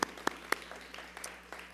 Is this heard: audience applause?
yes